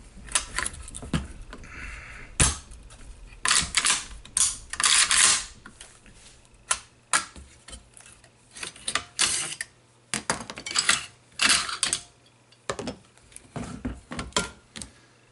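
Metal parts of a Vepr VPO-129 rifle clack and click in sharp, irregular bursts as it is taken apart, with close mechanical snaps and scrapes of the return spring, bolt carrier and bolt, some louder than others, and quiet pauses between them.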